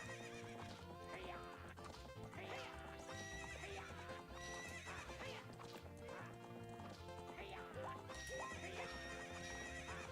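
A horse gallops in a corral race in The Legend of Zelda: Ocarina of Time, with rapid clip-clop hoofbeats and whinnies over continuous game music, heard at a low level.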